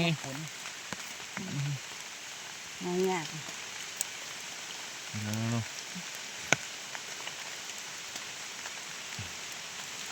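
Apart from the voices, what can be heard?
rain falling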